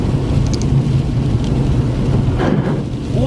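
Heavy rain from a thunderstorm pours down steadily and loudly on a vehicle driving through flooding, a dense continuous wash with a low rumble underneath and no talking.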